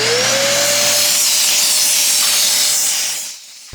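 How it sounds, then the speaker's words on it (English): A shop vacuum runs loud and steady, sucking debris out of a chainsaw in a cabin, with a continuous roaring hiss and a faint whine that cuts off abruptly near the end. "this shop vac, or whatever you want to call it, is fine. It's working quite well, just sucking everything out"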